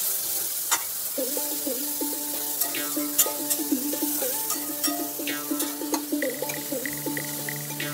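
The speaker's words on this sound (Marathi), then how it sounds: "तेल चांगलं गरम झाल्यावर त्याच्यामध्ये कांदा, टमाटर टाकून" Onion and tomato frying in hot oil in a pan while being stirred, giving a steady close sizzle and crackle punctuated by repeated scrapes of a spoon against the pan, with no talk.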